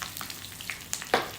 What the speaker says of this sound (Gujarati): રાઈ ફૂટે એટલે એની અંદર 1 ચમચી તલ ઉમેરી લઈશું. એની સાથે લીલા મરચાં અને લીમડો એ ઉમેરી લેવાના છે